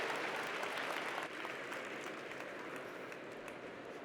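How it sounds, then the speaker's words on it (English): Audience applauding a panel at the close of a conference session, a broad, even wash of clapping from a sizable crowd that drops slightly in level partway and continues. "Please give my panel a big round of applause."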